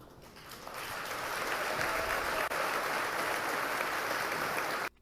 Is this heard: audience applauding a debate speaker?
yes